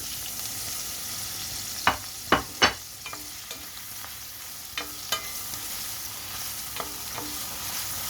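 Tomatoes are stirred into cabbage frying in a pan, giving a handful of sharp scraping and clattering stirs over a low, steady sizzle, with quieter scrapes spaced out toward the end.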